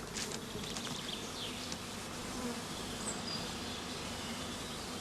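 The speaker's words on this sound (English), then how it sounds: "The queenless shook swarm is now taken to an airy, shaded place." Dense, steady buzzing of a queenless honeybee shook swarm confined in a swarm box, a continuous close hum lasting throughout with no talk.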